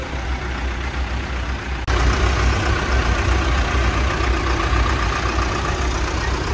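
A Massey Ferguson 285 tractor idles outdoors with a steady mid-low engine rumble. Partway through it steps up to a slightly louder, fuller drone and then holds there, no voices.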